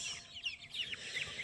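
Free-range purebred chickens cluck and call repeatedly at close range in short bursts, alone over a faint outdoor background.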